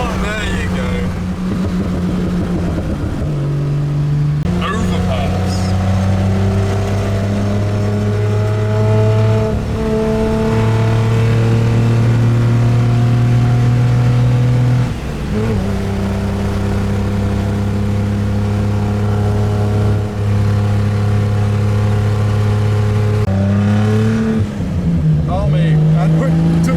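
A boosted car engine revs loudly and repeatedly, its tone rising and dropping in several long pulls as the throttle is worked, with excited voices talking and shouting over it.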